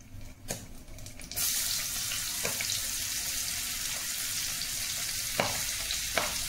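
Onions dropped into hot oil and frying, a sudden loud hiss that settles into a steady close sizzle, with a few clinks of a utensil.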